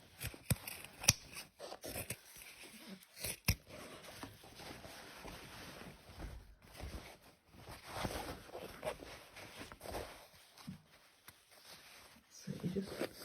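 Scissors snip across the leg of a pair of denim jeans in repeated irregular cuts with rustling fabric, close and moderately quiet, while a voice talks intermittently.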